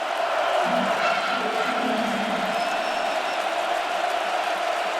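Roaring football stadium crowd at Penn State during a night game against Michigan, a constant dense wall of distant cheering and noise with a brief low rumble early on.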